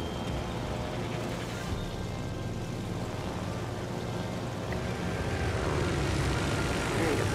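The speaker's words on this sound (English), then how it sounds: "Oh, dude's got torpedo planes still left." Torpedo planes in the naval warfare video game World of Warships: Legends drone steadily with a continuous propeller-engine hum that swells slightly toward the end, with no talking.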